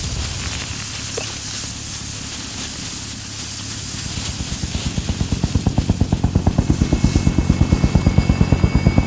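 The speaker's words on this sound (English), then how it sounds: "Helo is in position for your deposit." Call of Duty: Modern Warfare helicopter, a rotor beat that swells from a distant whir into a loud, steady rapid chop over the second half.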